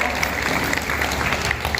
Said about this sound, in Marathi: सगळ्यांनी टाळ्या वाजवल्या